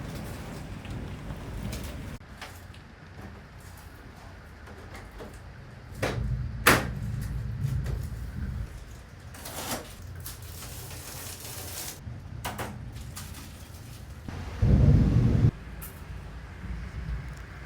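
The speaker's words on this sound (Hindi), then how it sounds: "वो बाहर आज रियली में आज तो आंधी बहुत ज़्यादा ही तेज है।" Strong storm wind blowing outside an apartment, with a tree being tossed about, gives a steady broadband roar of moderate loudness. Louder gusts or thumps rise around six seconds in and again near fifteen seconds.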